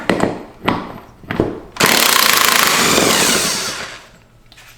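Several short bursts from a power tool followed by a sustained loud whirring run of about two seconds as it spins a nut off a John Deere D170 mower deck, then winding down.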